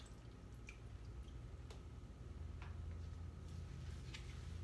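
Water, 16 ounces measured out, poured over salon implements ahead of mixing Barbicide disinfectant, giving faint drips and liquid splashes over a steady low background hum, with no talking.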